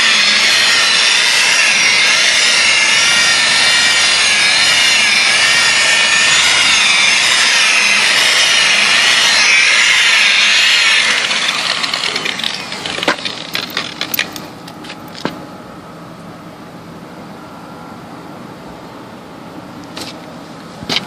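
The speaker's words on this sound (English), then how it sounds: "James is polishing now" A polishing machine buffs a car's painted surface to remove swirl marks after wet sanding, its loud steady whir running continuously for about eleven seconds, then winding down into softer scattered rubbing and tapping noises.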